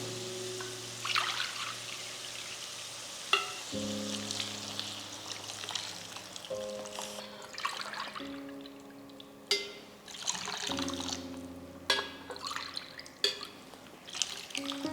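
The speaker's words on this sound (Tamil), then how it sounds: "இப்போ நம்ம வந்து ரெண்டரை கப்பு தண்ணி சேர்த்துக்கலாம்" Two and a half cups of water go into a pan of sautéed carrots and beans, with intermittent pours, drips and trickles over a low steady hum, interrupted by a few sharp clinks.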